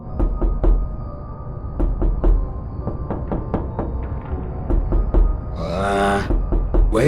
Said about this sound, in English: Who's knocking at my door so late?